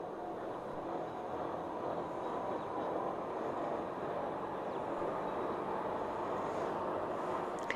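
A small train rolls through alpine scenery below the Eiger, heard as a faint, steady distant rumble with soft wind-like noise and no talking.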